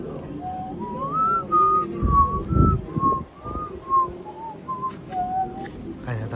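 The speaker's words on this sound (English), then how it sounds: "That's my quietest attempt at whistling without bothering anybody" A person whistles a soft, wandering melody of sustained notes inside a museum, the tune faint over a low murmur of room noise and occasional footsteps.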